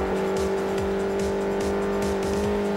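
Renault Megane race car in Forza Motorsport 4 at Circuit de Catalunya, its engine droning steadily and loud with repeated shifts and revving throughout, no talk over it.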